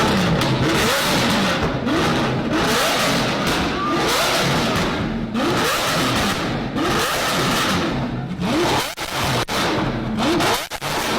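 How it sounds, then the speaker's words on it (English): A Lamborghini SVJ sports car with a Valvetronic exhaust revs loudly and repeatedly, rising and falling engine howls with sharp pops and thumps, close by, no talk over it. "Oh my god, Valvetronic exhaust, everyone."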